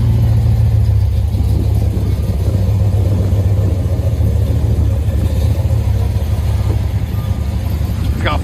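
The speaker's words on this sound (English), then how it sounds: "It's got FLOWMASTER 44s, long tube headers, high flow cats, side exit exhaust on each side." A 2016 RAM 1500 with a cammed 5.7L HEMI, long tube headers, high flow cats and Flowmaster 44 side exit dual exhaust rumbles loudly and steadily up close, with a deep, choppy low-end burble throughout.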